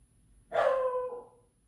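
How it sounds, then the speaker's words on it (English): A pet dog gives a single close, sharp bark with a short whining tail, loud against a quiet room. "He thinks he needs to bark at everything."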